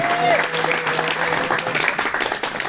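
Church congregation at a Sunday service clapping and cheering: loud, dense, continuous applause with shouting voices mixed in throughout.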